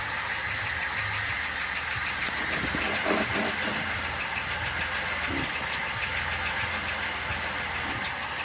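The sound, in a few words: car wheel rubbing while driving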